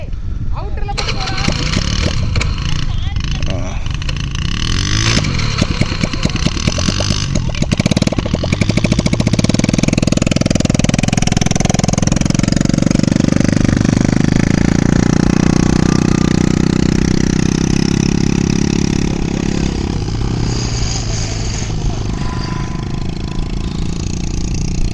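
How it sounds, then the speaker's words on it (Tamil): A motorbike rides along the beach at Dhanushkodi, its engine chugging and revving steadily and close for a long stretch, with people talking over the mechanical drone throughout. "இப்போ வந்து சத்யா வந்து பைக் ரைடிங் பண்ண போகுது."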